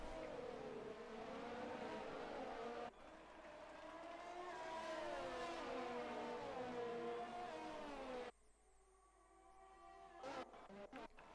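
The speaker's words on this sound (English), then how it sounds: "We watch as all the cars come round." Race cars in a sim racing video game sweep past on the Mexico circuit, several whining engines rising and falling in pitch as they pass, loud and continuous before cutting abruptly to a quieter stretch with brief bursts.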